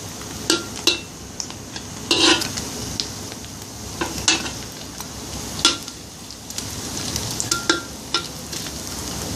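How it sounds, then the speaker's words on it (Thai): Egg-dipped balls of sticky rice deep frying in oil, a continuous sizzle broken by sharp clinks and scrapes of a utensil against the pan every second or so. "ปั่นข้าวเหนียวแล้วเฮาก็เอามาชุบไข่แล้วเอาลงไปทอดนะจ๊ะ"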